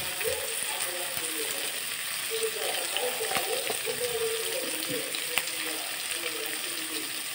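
Onions sautéing in a pan for masala dosa, a soft steady sizzle with faint scraping and stirring clatter throughout, fairly quiet and close.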